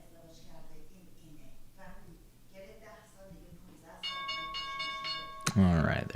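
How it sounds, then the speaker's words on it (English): Stock market opening bell rings out loudly at the market open, a sustained bright metallic tone kicking in after several seconds of talking and ending in a sharp burst, with a voice heard over the earlier part. "there's the bell for us"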